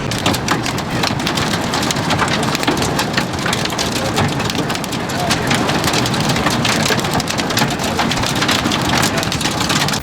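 Heavy rain pours down steadily during a storm at the Darlington racetrack, a loud, dense, continuous hiss of drops on surfaces that fills the whole stretch without letting up.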